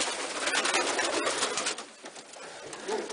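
Pigeons cooing in a loft, soft overlapping coos and rustling close by, fairly quiet and continuous with no talking.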